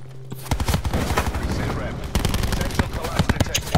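Gunfire in Call of Duty Blackout on the Alcatraz map: rapid bursts of shots and automatic fire crackle loudly and continuously, with players talking over it.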